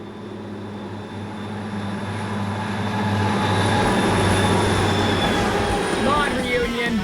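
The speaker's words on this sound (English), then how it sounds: "Metra shares these tracks with freight trains" A train rolls along a high-speed, high-density BN main line near Chicago, its steady rumble and rail clatter building louder and closer over several seconds, with faint wheel squeal toward the end.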